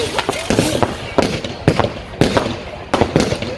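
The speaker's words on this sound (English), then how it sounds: "And then next up we've got a couple of crossette cakes." Crossette cake fireworks bursting at an outdoor display at St James in the City, Liverpool, each shot splitting into four: five loud, sharp cracks arrive at a steady rhythm, each trailing into crackling decay.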